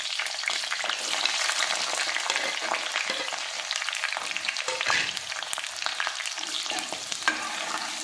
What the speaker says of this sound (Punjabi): ਜਿਹੜੇ ਸਾਡੇ ਕੋਲ ਪਿਆਜ਼ ਤੇ ਹਰੀ ਮਿਰਚ ਹੈ ਇਹ ਵੀ ਅਸੀਂ ਵਿੱਚ ਫਰਾਈ ਕਰਾਂਗੇ ਸ਼ੈਲੋ ਫਰਾਈ